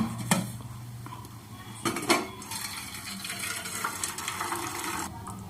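Cooked toor dal for sambar being poured into a strainer in a kitchen, with pots clanking against the sink and a steady wash of running, splashing water; a couple of sharp metal knocks stand out near the start.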